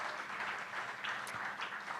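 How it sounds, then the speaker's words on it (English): An event audience claps for the production team, a short burst of scattered, moderately loud applause with no speech over it. "while we're giving rounds of applause"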